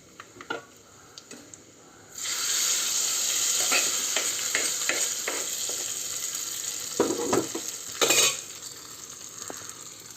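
Hot tempering in sesame oil poured onto vegetable sambar rice made without onion or garlic: a sudden loud sizzle that settles into a steady hiss, with light clicks and scrapes of stirring and a brief surge near the end.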